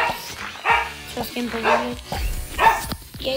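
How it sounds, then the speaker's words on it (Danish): A dog barks and yips repeatedly in the background while someone talks over it. "Min hund larmer lidt. Så undskyld larmen."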